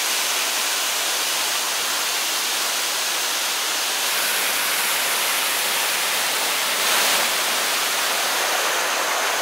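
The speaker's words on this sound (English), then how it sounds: "check out this waterfall" A waterfall in the Shiretoko forest of Hokkaido roars as a dense, steady rush of falling water, loud and close, with no voices over it.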